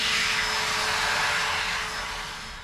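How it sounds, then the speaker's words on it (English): A hand dryer in the restroom of a luxury Swiss train blows with a loud, steady airy roar that starts strong, then gradually fades toward the end. "There's also a hand dryer."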